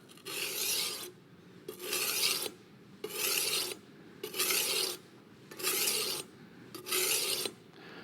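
A knife blade rasps across a finer-grit sharpening stone in six even strokes about a second long each, close and clear, separated by short quiet pauses.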